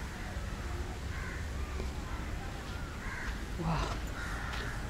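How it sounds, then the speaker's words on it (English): Crows caw around a small Buddhist temple in Sri Lanka, with several harsh calls spaced irregularly over a quiet, faint outdoor background. "It's always full of birds, Sri Lanka."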